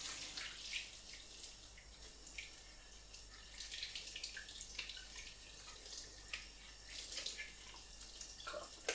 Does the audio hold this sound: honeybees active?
no